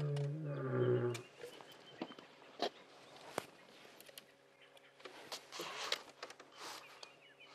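A male lion on a sunrise safari drive gives a short, low roar at the start, followed by rustling, footsteps and faint outdoor sounds.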